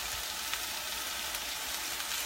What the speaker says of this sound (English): you guys can watch the chicken sizzle